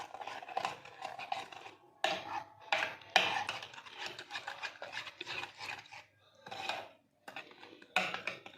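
A spoon scrapes and clinks against a bowl while chutney is mixed into dahi bhalla, giving repeated rubbing and scraping strokes with short pauses, close and fairly quiet.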